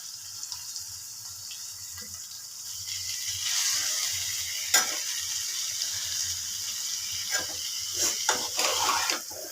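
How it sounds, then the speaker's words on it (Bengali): Chopped banana flower tipped into a pan with cooked potatoes and spices and stirred, soft sizzling and wet hissing with scraping stir strokes building in the second half, a low hum underneath. "এবার মোচাটা দিয়ে দিচ্ছি, মোচাটা দিয়ে দিলাম।"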